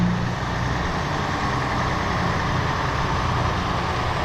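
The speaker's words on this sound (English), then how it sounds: "The hot rod exhaust." A heavy rotator crane truck, a 50-ton unit, rumbles past with a loud, steady low exhaust drone that holds near and constant throughout, with no voices.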